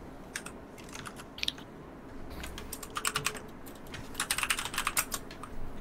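A computer keyboard is typed on in quick, irregular clusters of clicks that grow busier toward the end, heard close over a steady background hum with no voices.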